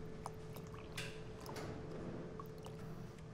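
Water is poured and measured out for a lost-wax casting plaster mix, with faint dripping, splashing and trickling over a steady background hum, fairly quiet and with no talking.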